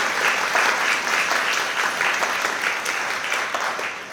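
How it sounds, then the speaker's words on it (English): A crowd claps steadily in sustained applause at a new members' ceremony for GPs in Liverpool, dense and even, tapering slightly at the end. "I think that deserves a round of applause for yourselves."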